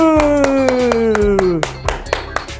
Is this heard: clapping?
yes